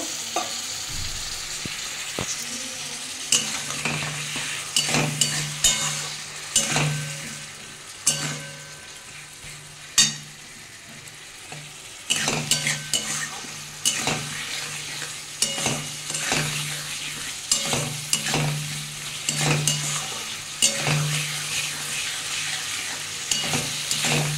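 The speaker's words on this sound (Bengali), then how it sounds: "একটু সামান্য জল দিয়ে বন্ধুরা এটা ভালো করে কষিয়ে নেব।" A spatula stirs spice paste with a little water in a pan while it sizzles softly, with repeated scraping strokes at an uneven rhythm, close and fairly quiet, and no talking.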